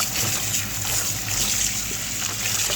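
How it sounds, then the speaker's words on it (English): Otazi leaves being washed by hand in a basin of water, with steady splashing and sloshing close by throughout, no talk. "Make sure you wash it very well because of sand."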